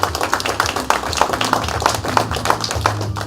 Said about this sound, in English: Round of applause again for Tommy and Jamie.